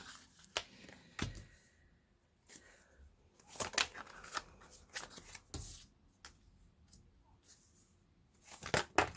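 Tarot reading cards are gathered and shuffled close up, giving quiet scattered papery flicks, riffles and sharp snaps with pauses between them.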